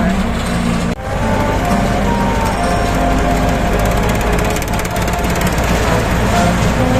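Kubota L5018SP tractors cut grass in a palm plantation in the rain, their engines droning loudly and steadily up close. The drone is broken once by a brief thump.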